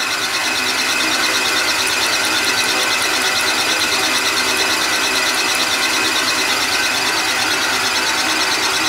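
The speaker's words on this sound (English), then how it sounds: "it doesn't matter if I run the lathe in the opposite direction" A lathe running steadily at 430 RPM gives a continuous, loud mechanical whir and hum with high-pitched squealing overtones, unbroken throughout with no talk.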